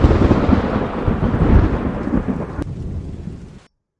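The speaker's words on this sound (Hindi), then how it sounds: "तभी एक जोर की बिजली कड़की और" A loud thunder crack erupts with heavy rain, a dense, close rumble that roars and slowly fades before cutting off to silence.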